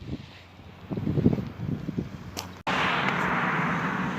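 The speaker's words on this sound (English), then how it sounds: "this wind is hard on breath" Strong wind gusting outdoors, a low rushing roar with a sudden louder broadband blast buffeting the microphone near the end.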